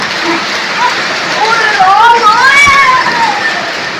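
Heavy rain pours down in a Punjabi village, a dense steady hiss that holds throughout while voices and some high whistling tones rise over it.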